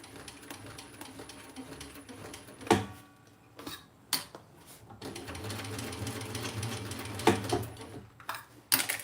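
A sewing machine stitches vinyl fabric in quiet bursts of rapid mechanical ticking, with short pauses and occasional clicks and thumps between runs.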